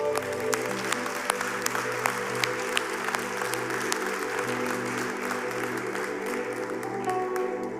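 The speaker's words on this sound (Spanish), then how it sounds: "un aplauso al Señor" Steady applause from a church congregation fills the scene, with sharp individual claps popping over a sustained musical drone.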